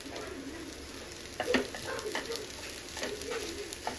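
Egg fried rice frying in a pan on high flame, a steady soft sizzle with a few louder stirring scrapes close by, no talking.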